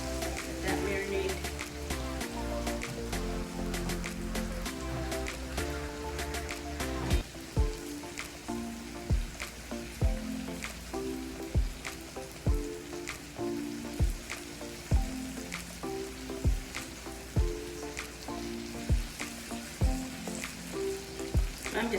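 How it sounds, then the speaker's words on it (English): Pound cake warming on a grill beside marinating apples, giving a steady soft sizzle under loud music with a rhythmic beat throughout. "I'm just toasting my pound cake."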